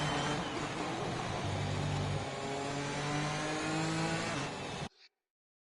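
A racing car engine in an F1 game at Silverstone revs hard and accelerates off the start, a loud continuous whine climbing in pitch before cutting off abruptly.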